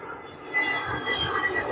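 An airplane flies low overhead beside an international airport near a village, its engine a steady broad roar that swells slightly midway, heard alone without talk.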